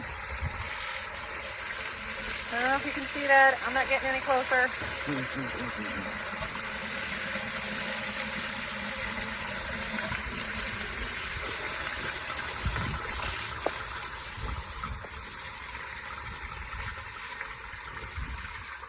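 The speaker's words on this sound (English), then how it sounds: "The water is flowing." Water rushes steadily out of a freshly cleared septic main line at a home, a continuous hiss of flow running throughout while someone talks briefly over it near the start.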